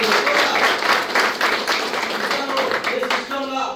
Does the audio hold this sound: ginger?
no